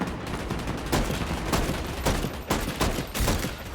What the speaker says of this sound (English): I know this is supposed to be a Dragunov, but this shoots way faster than a Dragunov